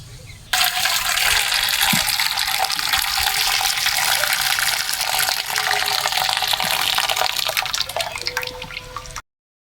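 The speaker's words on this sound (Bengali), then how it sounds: "এবারে জল ঝরিয়ে নামিয়ে নেব।" Hot water from boiled cassava pours out in a loud, steady gush as a pot is drained in a kitchen, running continuously for several seconds before stopping abruptly.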